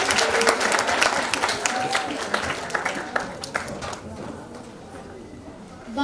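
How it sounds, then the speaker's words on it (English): School audience applauding as a student walks on stage, a dense burst of many hands clapping that gradually thins and fades, heard in a hall. "Please give Barbara a clap as she comes on stage."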